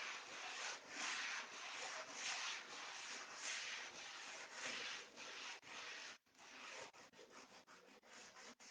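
Light hand sanding of a painted wooden Christmas door hanger, rhythmic back-and-forth rasping strokes close up, about a dozen passes with brief pauses and a few quicker scrubs near the end.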